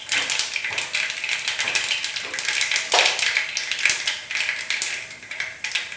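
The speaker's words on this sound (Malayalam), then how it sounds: "കടുകിട്ട് പൊട്ടിക്കുക." Mustard seeds spluttering in hot oil in a heated pan, a dense run of sharp crackling pops spread across the whole stretch, close and fairly loud.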